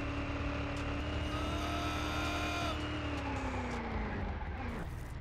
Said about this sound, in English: Oh, it's bogging out. The transmission's bogging out.